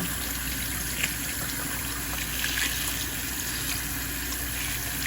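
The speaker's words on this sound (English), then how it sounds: "These eggs, you just put it under cold water and pull off the shell off." Cold tap water runs steadily over boiled eggs in a kitchen, a continuous close splashing hiss with slight fluctuations and no talking.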